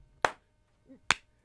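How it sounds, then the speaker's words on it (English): Two sharp, close hand claps sound about a second apart, with a brief faint murmur of voice between them. "can I get the last clap?"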